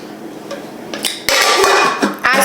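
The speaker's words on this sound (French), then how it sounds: "Maintenant, j'avais besoin d'une casserole." A stainless steel saucepan clanks and rattles as it is handled, with a few sharp metallic knocks followed by louder ringing scrapes and bumps close to the mic, and no talking.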